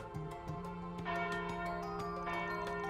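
Church bells peal in the Legend of Heroes: Trails Beyond the Horizon game world, steady ringing tones layered over a sustained musical backdrop, growing fuller and louder after the first second.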